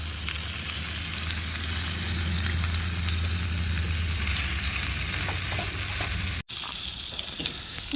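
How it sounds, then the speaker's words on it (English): Steady, close sizzling and crackling of sausage and potatoes frying in a hot pan on high heat, continuous hiss with a brief cut near the end, no voices. "Look at that sizzle."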